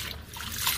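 Water sloshes and trickles briefly as vegetables are washed after soaking, a soft, close splashing lasting under a second.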